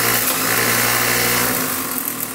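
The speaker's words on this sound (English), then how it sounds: "the buggy motor isn't bad, but you'll notice it takes a couple seconds for it to get up to speed" A Lego buggy motor in an overpowered Lego bolt gun whirs steadily at close range, a dense continuous mechanical hum with no voices over it.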